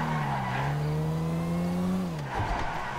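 Car in the video game Grand Theft Auto 5 revving with a rising engine tone, then a tire skid near the end, loud and close, with no talking.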